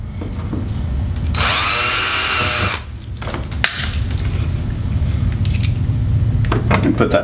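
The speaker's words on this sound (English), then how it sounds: "Get it nice and straight, drill the second hole." A power drill bores a hole through a kayak hull while an anchor trolley is being fitted, giving one loud, whining burst of about a second and a half, followed by quieter handling noises.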